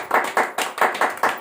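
An audience claps hands in a quick steady rhythm, about six sharp bursts in under two seconds, loud and close with no voices.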